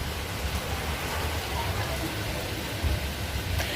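Steady rain falls during Cyclone Nisarg, a dense continuous hiss with a soft patter of drops on surfaces, fairly close and unbroken throughout.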